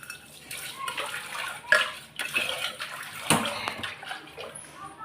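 A pressure cooker is washed under a running kitchen tap while bottle gourd sambar is being made, giving a steady splashing water flow with some clattering and a sharper knock partway through.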